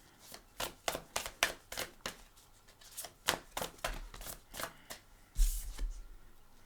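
Tarot cards being shuffled by hand at a reading, a quick series of crisp riffling slaps and flutters, close and moderately loud, ending in a fuller burst of riffling.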